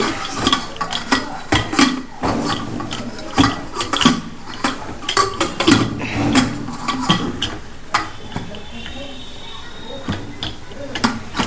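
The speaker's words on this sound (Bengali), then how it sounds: "প্রেসারে দিয়ে প্রেসারের ঢাকাটা, এই যে প্রেসারের ঢাকাটা একটু" A pressure cooker lid is fitted and locked onto a cooker holding potatoes for boiling. Repeated close metallic clicks, clanks and ratcheting taps sound in irregular bursts throughout, with faint voice-like background noise.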